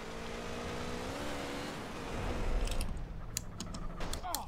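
Motorbike engine in GTA San Andreas, a steady droning hum with rising harmonic sweeps as it revs, followed by rougher louder rumble and scattered clicking; no talk.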